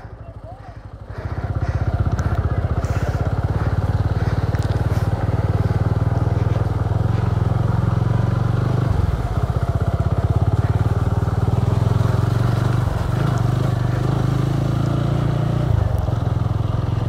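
Off-road motorcycles on a dirt trail at Krishnapur in Goa, engines droning loud and steady close by after a short quieter start, with shifts in pitch as riders change throttle.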